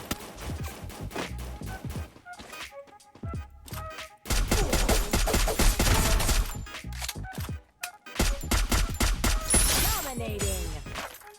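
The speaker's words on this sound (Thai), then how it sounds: "เอาละยิงให้ตายให้หมดซะ" Gunfire in the mobile game Free Fire, with dense bursts of automatic weapon shots and rapid fusillades, loud and close, coming in several sustained volleys separated by short pauses.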